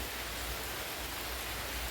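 Steady rain falling outdoors at the start of the monsoon, a dense, even hiss that holds without a break and with no voices.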